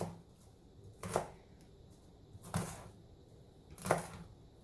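A knife dices an onion on a cutting board with three sharp, separate chops about one and a half seconds apart. Each chop stands out clearly over quiet kitchen background noise.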